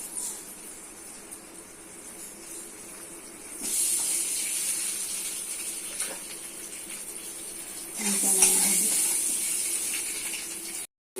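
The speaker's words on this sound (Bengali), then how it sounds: "গরম হয়ে গেছে তেল দিচ্ছি একটু হলুদ গুঁড়ো দিচ্ছি লবণ ডিমগুলো নামতে দিচ্ছি" Eggs seasoned with turmeric and salt dropped into hot oil, a loud broad hissing sizzle that swells sharply midway and again near the end, no voices.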